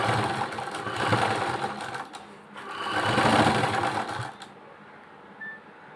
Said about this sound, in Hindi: इसके बिल्कुल एज पे यहाँ पर सिलाई लगानी है